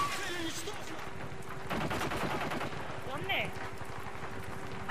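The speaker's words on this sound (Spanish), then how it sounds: "Disparo." Bursts of rapid gunfire crackle in a capture-the-flag match of the video game Bootleg, with a steady electronic hum and a brief high-pitched ping beneath.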